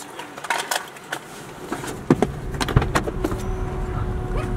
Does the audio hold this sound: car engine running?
yes